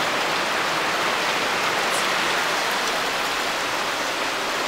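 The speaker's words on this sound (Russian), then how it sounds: "Вы, наверное, слышите, это просто ливень." Heavy rain pours down in a dense, continuous roar of hissing water, loud and unbroken the whole time.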